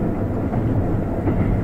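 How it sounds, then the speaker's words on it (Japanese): A JR Hidaka Line train runs toward Mukawa station, heard from inside as a loud, steady rumble with faint rhythmic rail clatter and no talking. "列車はまもなく向川に停まります。"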